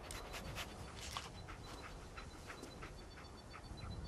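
A dog companion in the video game Fallout 4 pants in quick, steady breaths, close and fairly quiet over a low background rumble, with no talking.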